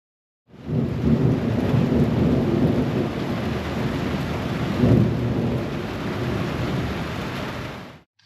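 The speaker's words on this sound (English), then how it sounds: "as you can probably see behind me, it's raining. We have thunderstorms in the forecast all day today" A steady thunderstorm on moving day in Texas, with heavy rain hissing continuously and a low rumble of thunder swelling midway, loud and close, with no voices.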